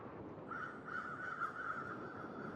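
A steady run of crow caws in the video game The Long Dark, repeated calls over a constant ambient bed, fairly even in level throughout.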